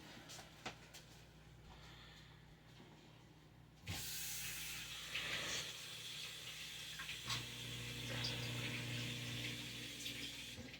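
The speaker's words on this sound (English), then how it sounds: "I'll just give my hands a quick wash because I touched raw meat." Tap water runs into a home kitchen sink while hands are washed after handling raw meat, a steady hiss that swells louder midway with sloshing and a low hum underneath.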